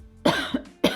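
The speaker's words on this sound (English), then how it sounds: "that's a cough" A person coughs three times in quick succession, close and sharp, with each burst raspy and short and the last one cut off.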